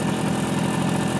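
A 1970 Kawasaki Bushmaster motorcycle engine with a sticking clutch idles in a brief, steady, throbbing low rumble.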